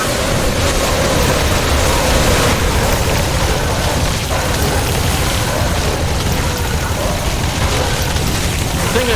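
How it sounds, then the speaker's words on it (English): Airstrike explosions pound the battlefield in the video game The Riftbreaker, a loud, continuous wall of booming, rumbling blasts that holds steady for the whole stretch without letting up. "Now we can call in the airstrike."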